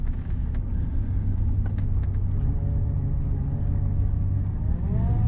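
A 1964 Lincoln Continental sedan drives around a corner, its engine a steady low rumble from inside the car with a smooth rising whir as it pulls through the turn, no talking.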